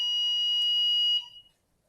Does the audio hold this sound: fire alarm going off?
yes